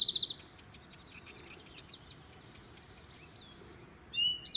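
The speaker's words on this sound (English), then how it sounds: "That bird was a house wren," A house wren sings in a spring sanctuary, with bright bubbling trilled bursts at the start and again near the end, and a quieter stretch of faint calls between.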